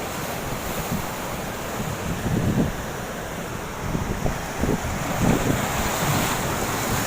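Strong waves roll onto a beach at Nan Khan under a stiff evening wind, a steady close surf wash with louder surges breaking every second or two, wind buffeting the microphone throughout, no voices.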